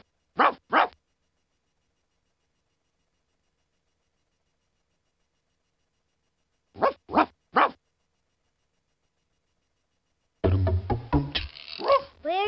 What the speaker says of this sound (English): Good dog, Ruff.